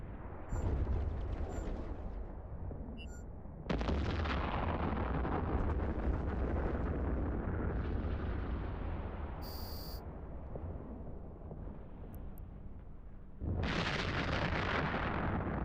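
Ships firing in the space game EVE Online during an Angel Haven combat site: a dense, continuous rumble of booming weapon blasts with a few sharp tonal beeps, no talking.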